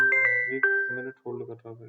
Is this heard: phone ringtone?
yes